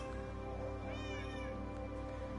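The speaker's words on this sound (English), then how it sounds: "these are all the types of cats" Minecraft cats meowing, a couple of quiet, drawn-out in-game meows over a steady background hum, no speech.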